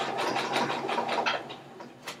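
A sewing machine stitching a crotch seam in fabric: a close, steady mechanical whirring with rapid needle chatter, rising and easing slightly as it runs on its own.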